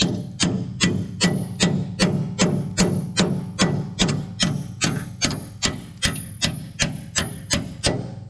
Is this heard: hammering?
yes